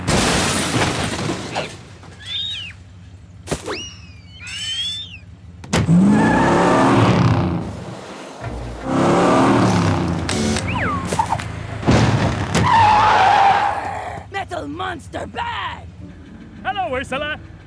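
A cartoon car in a jungle revs, skids and crashes in bursts of engine roar, screeching and clattering impacts, mixed with cartoon sound effects and characters talking in between.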